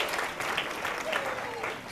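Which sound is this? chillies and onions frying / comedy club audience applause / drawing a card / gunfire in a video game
comedy club audience applause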